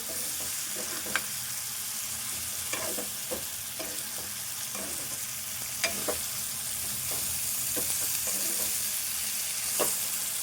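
Dried fish, washed in salted hot water, fries in a pan over low heat. A steady sizzle runs throughout, with sharp intermittent clicks and scrapes from stirring, and there is no talking.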